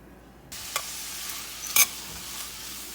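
Carrots fry in a pan with a steady sizzle that starts abruptly, punctuated by a few sharp scrapes and taps of a spoon as they are stirred, close and without talking.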